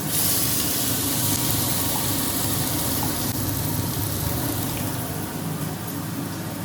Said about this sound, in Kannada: ಈರುಳ್ಳಿನ ಇವಾಗ ಬ್ರೌನ್ ಆಗೋವರೆಗೂ ಹುರ್ಕೊಳ್ಳೋಣ